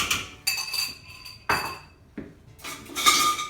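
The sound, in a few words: fork mixing yogurt starter into milk in a pot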